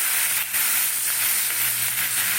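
Green chili dropped into hot oil sizzles loudly and steadily in a pan, a close, continuous frying hiss with slight surges as it is stirred, no talking.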